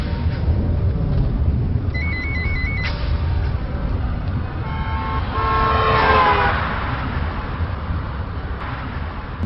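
A car travels along a road near a slum, with a constant engine and traffic rumble throughout and a few short horn toots sounding nearby in the first half, without any talk.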